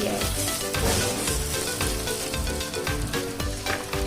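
Spices with garam masala frying in a pan for an Assamese banana-stem dish, a loud, close, continuous sizzle broken by rapid, rhythmic stirring strokes.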